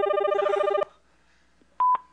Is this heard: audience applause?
no